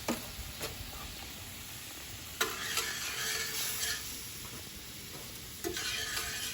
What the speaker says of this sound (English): you can see that the syrup is starting to form. It's starting to bubble